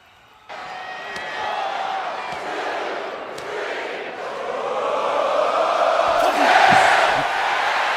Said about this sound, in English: Sami Zayn playing into the crowd as they count the punches.